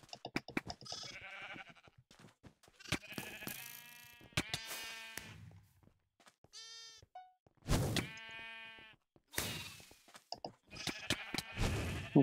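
Sheep in a Minecraft mini-game bleat repeatedly in short, wavering calls scattered with gaps between them, clear and close with no talk over them.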